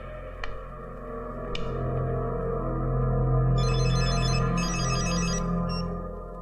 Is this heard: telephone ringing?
yes